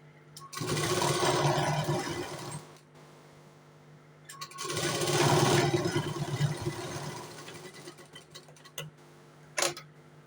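A sewing machine stitches blouse pieces laid one on top of the other in two loud, sustained whirring runs of about two and five seconds, separated by a pause, followed by a brief clack near the end.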